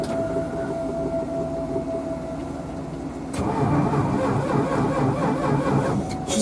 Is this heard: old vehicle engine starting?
yes